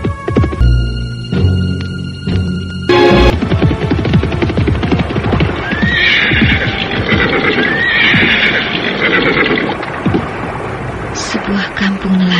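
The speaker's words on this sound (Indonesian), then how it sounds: "Akhirnya kuda itu bersama penunggangnya memasuki sebuah perkampungan." A horse carrying a rider neighs loudly and whinnies again over the steady clip-clop of trotting hooves, arriving in a fishing village, with a faint background hum.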